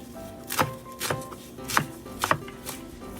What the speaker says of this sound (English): first you wash the daikon leaves and chop into small sizes.